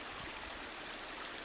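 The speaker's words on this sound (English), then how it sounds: "here's our creek crossing right here" A mountain creek flows at a hiking trail crossing near a parking lot, a faint, steady rushing wash with no breaks.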